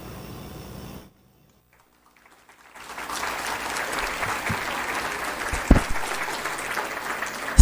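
An audience at a conference breaks into applause, a steady broad clatter of many clapping hands that starts after a brief silence and carries on to the end, with a few louder claps near the close.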